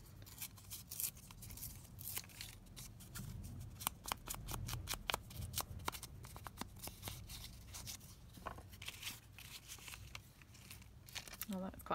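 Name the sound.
tearing paper for envelope pocket craft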